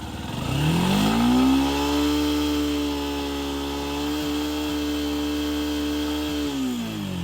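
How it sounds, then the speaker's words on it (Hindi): Yamaha FZS V3 motorcycle engine revving up hard at full throttle, then holding a steady high buzzing drone near its 8000-8500 rpm limit, loud and close with no talk. "इसका जो आरपीएम है वो फुल थ्रोटल देने के बाद भी 8000 आरपीएम से ज़्यादा जा नहीं पा रहा है।"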